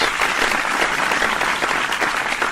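Canned applause sound effect dropped into a podcast, a dense, even wash of crowd clapping at steady loudness for a couple of seconds.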